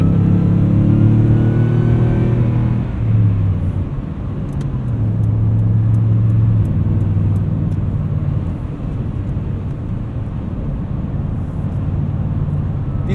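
A supercharged 2015 Toyota Tundra TRD Pro truck on the move, a steady low road rumble with engine note shifting as it accelerates early on, heard from inside the cabin with little wind noise.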